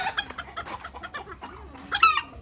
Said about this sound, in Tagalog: Wala, may manok.